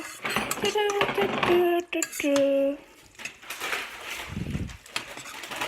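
Cheese sauce of milk and margarine being stirred in a pan, with utensil clinks and scraping against the metal, close and fairly loud, over a melodic humming voice and faint background talk.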